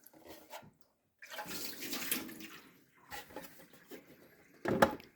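Water poured out of the removable reservoir of a Keurig Duo coffee maker during descaling, splashing in bursts that surge and fade over several seconds, ending with a sharper splash, with no talk.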